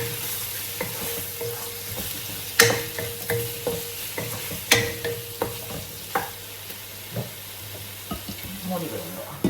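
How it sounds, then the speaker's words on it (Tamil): Ingredients for chicken biryani sautéing in a pan, with a steady sizzle underneath and repeated sharp scrapes and clacks as they are stirred, each stroke standing out briefly and clearly against the frying hiss. "நான் இப்படியே வதங்க விட போகிறேன்"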